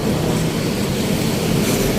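A light rail train coming from Masinag rumbles past on a city boulevard, a steady broadband roar with heavy low-end rumble that holds loud and constant throughout, no voices.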